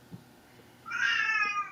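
A single long meow from a cat rises and holds for close to a second, fairly loud and near, after a brief stretch of quiet room sound with faint knocks.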